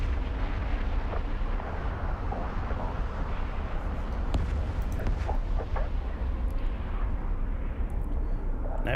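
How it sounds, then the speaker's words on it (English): A smart bomb detonating in EVE Online, a loud, sustained rumbling blast with a few sharp cracks layered over continuous low roar. "I'm going to get killed by the smart bomb"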